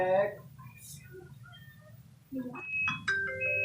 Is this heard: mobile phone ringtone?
yes